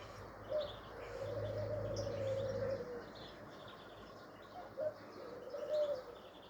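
A pigeon or dove coos softly outdoors on a cloudy mountain day, two drawn-out low calls separated by a pause, with faint background chirps and no talking.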